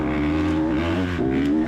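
Off-road motorcycle engine droning steadily up close while riding single track, a brief loud continuous tone with slight pitch wobble.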